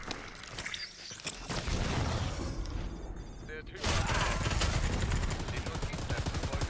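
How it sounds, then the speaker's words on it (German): Dense bursts of rapid automatic gunfire and shots in the video game Predator: Hunting Grounds, loud and continuous, with a brief lull before the firing swells again and voices faintly underneath. "Er ballert auf mich."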